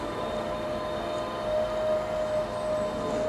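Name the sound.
construction machinery in the background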